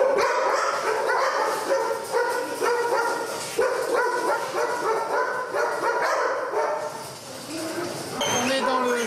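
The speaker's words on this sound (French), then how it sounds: "le chenil de la police technique et scientifique qui est composé de 7 chiens, 3 bergers allemands et 4 bergers belges malinois" Police forensic kennel holding German shepherds and Belgian Malinois, several dogs barking and yipping together in a dense, echoing chorus with some whimpering, steady and fairly loud throughout.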